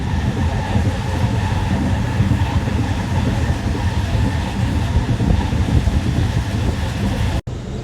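MEMU express train running at about 95 on the Bhimavaram to Machilipatnam line, heard from inside the coach as a loud, steady rumble and rattle that continues without a break.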